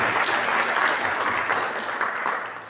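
Church congregation applauding during a Pentecost service, a dense burst of clapping that rises briefly and then tapers off toward the end.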